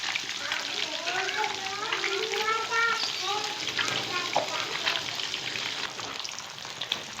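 Fish pieces frying in oil for a Lahori masala fish fry: a steady, close sizzle and crackle runs throughout, with a person talking over it for part of the time.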